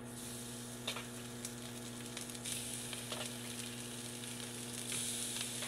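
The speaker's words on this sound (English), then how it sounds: "Listen for the sizzle." Chicken seasoned with crushed peppercorn and garlic sizzles steadily in a hot pan, a continuous faint crackle with occasional sharper pops and a low hum underneath, no one talking.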